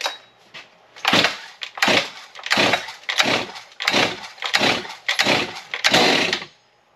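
A Stihl MS 363 chainsaw is pull-started over and over, about eight rapid ratcheting cord pulls in a steady rhythm, loud and close, without the engine catching.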